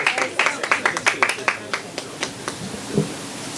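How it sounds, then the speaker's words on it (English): Scattered hand claps from an audience at a medical conference award ceremony, a dozen or so distinct claps in a quick uneven burst that thins out and fades, with a faint voice near the end. "A huge round of applause."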